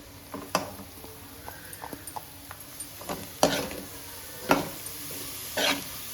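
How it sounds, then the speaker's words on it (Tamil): Grated carrots, four of them, tossed into a pan with onions for carrot rice, giving soft sizzling under scattered scrapes and clacks of a spatula stirring, with a few louder stir strokes near the end. "4 கேரட் எடுத்து துருவி வச்சுருக்கேன், அதையும் இதுலேயே போட்டுக்குவேன்"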